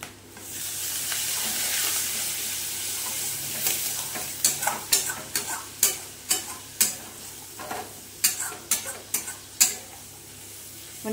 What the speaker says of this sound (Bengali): বন্ধুরা, এখানে মশলাটা কষা হয়ে গেছে, এবার দিয়ে দিচ্ছি জল।